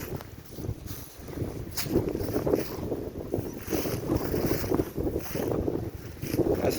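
Strong wind buffets the microphone in a steady, roaring rumble by Lake Burtnieks, Latvia, with water lapping faintly beneath; no voices.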